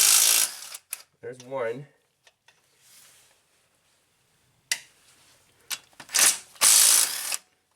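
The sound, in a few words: cordless impact driver removing fasteners on Honda Odyssey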